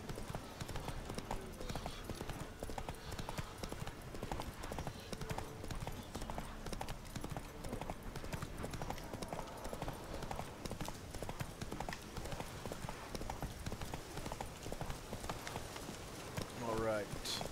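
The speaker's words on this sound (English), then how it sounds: "hop on it, and then ride it like you would any other horse" A horse ridden in the Witcher 3 video game, steady rhythmic clip-clop of hooves running on without a break, faint and even, with brief touches of speech over it.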